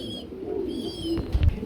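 Lahori pigeons in silver coloring coo softly and low, a murmuring call close by with faint background noise.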